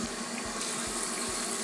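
Tap water runs steadily and close while SOS cleansing face powder from Faberlic is rinsed off the face: a continuous, even rushing splash with no talking.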